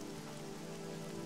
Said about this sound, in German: Nein, nicht Regen. Och nö.